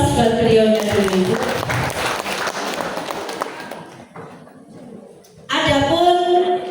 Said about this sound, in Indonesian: Berikan aplaus buat beliau dulu.